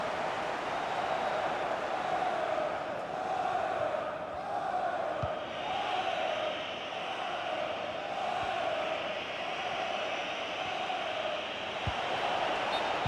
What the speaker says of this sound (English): Well, just listen to the crowd. They know this is a big chance to equalise.